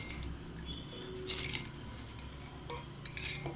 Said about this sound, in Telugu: దీంతో పప్పుగుత్తితో స్మాష్ చేసుకుందామండి ఆ మ్యాంగోస్ అంతా.